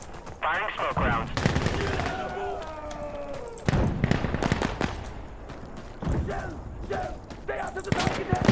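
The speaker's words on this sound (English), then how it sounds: "Firing smoke rounds." Smoke artillery rounds fire in the video game Insurgency Sandstorm as a series of sharp booming reports spread across the clip, mixed with other game sounds and voice chatter.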